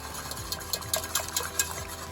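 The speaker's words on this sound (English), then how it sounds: "whisk them in" A quick whisk stirring nutritional yeast into a liquid in a bowl, with a soft wet swishing and light clicking strokes in fast succession, close and fairly quiet.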